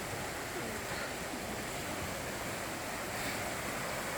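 The waterfall at High Falls Park roars as a steady, dense broadband rush of falling water that fills the whole stretch evenly at moderate distance, with no voices heard.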